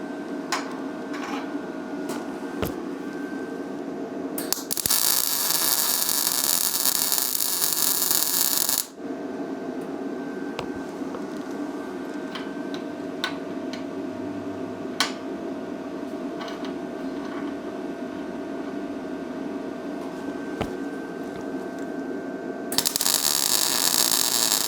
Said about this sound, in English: Yep, it does weld.